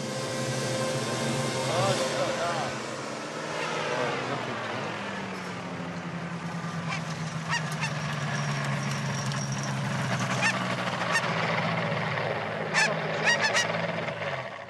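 A flock of geese honks repeatedly while flying in formation, loud, overlapping calls near and far over a steady engine-like drone, with scattered sharp squawks toward the end.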